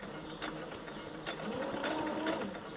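Sewing machine stitching back and forth to finish a lined zipper pouch, giving a steady mechanical whir with rhythmic ticking of the needle at moderate, close level.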